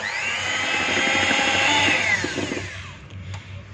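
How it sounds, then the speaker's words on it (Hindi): An electric beater whirs steadily as it mixes chocolate sponge cake batter, a loud, even motor drone that cuts off near the end and leaves a quieter tail. "इसके साथ ही एक बीटर को ऑन कर लेंगे।"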